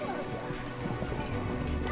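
A horse gallops through tents on a film set, quick heavy hoofbeats thudding over a loud, busy background of crew noise and voices.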